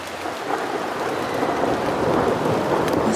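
Heavy rain pours down at a riverside campsite, a dense, loud, continuous hiss with a low rumble of thunder underneath, no voices.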